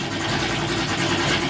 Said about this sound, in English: Right now we're gonna let it idle for 5 minutes